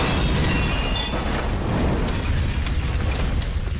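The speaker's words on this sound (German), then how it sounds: "die Explosion ist übrigens gut gemacht" A deep, rumbling explosion in the video game Tomb Raider (Xbox 360), with a sustained roar of debris and crackling, loud and continuous for several seconds with no break.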